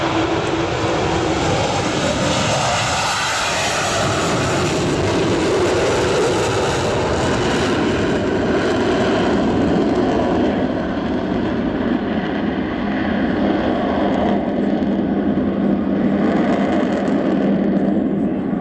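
The Avro Vulcan XH558 jet bomber takes off at the Waddington airshow, giving a loud, sustained roar of jet engines that fills the whole stretch and shifts in tone as the aircraft climbs away, with no voices.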